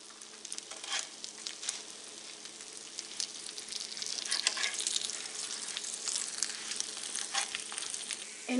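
Potato tacos frying in oil in a pan, a steady close crackling sizzle that swells in the middle with small pops throughout.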